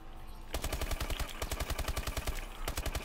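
Rapid automatic fire from the ASM1 Strider in Call of Duty: Advanced Warfare, a fast steady burst lasting about two seconds, a brief pause, then firing resumes.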